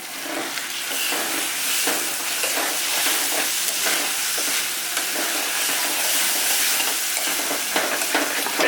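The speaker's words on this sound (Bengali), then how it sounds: "এইবারে আমি ভালো করে একে ভেজে নেব" Clam meat stir-fries in a pan with a loud, dense, continuous sizzle and hiss, close by and steady throughout, with faint scraping from stirring and no voices.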